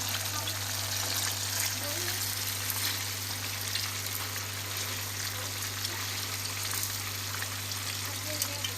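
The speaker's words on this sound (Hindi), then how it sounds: "3 मिनट हमारे हो गए हैं और फ़िश हमारी फ्राई हो गई है।" Fish fries in a pan with a steady, dense sizzle and crackle that holds evenly throughout, under a constant low electrical hum, with a voice speaking over it at moments.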